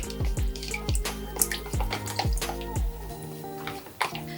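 Distilled water is poured from a reusable plastic water bottle into acrylic paint for pour painting, giving close, repeated glugging splashes and drips with no talking.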